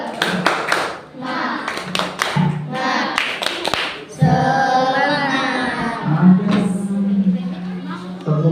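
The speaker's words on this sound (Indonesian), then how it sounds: "Oke, supaya semangat kita kasih tepuk" A primary school class claps a rhythmic spirit clap in patterned bursts of sharp hand claps, close and loud, with children's voices chanting and talking alongside in a classroom.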